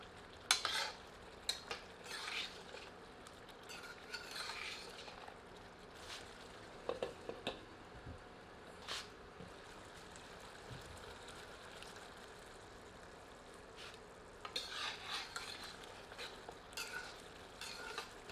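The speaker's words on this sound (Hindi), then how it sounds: "इसे मांस में मिलाकर 3 से 4 मिनट धीमी आंच पर पकाते हैं" Mutton with ginger-garlic paste cooks over low heat in a pan, a faint continuous sizzle broken by repeated scraping stirs and light utensil knocks, close by with no voices.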